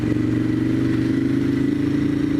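A Ducati Monster 1100 Evo motorcycle engine hums steadily at a constant, mid-pitched drone while riding, close and loud, with no talking.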